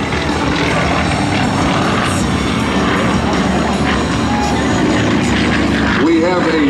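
Aerostars aerobatic planes roar past each other at high speed over NAS Patuxent River air expo, a loud continuous engine drone that swells and sweeps by, with an announcer talking over it.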